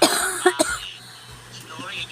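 A person gives a couple of sharp coughs up close, followed by faint talk in the background.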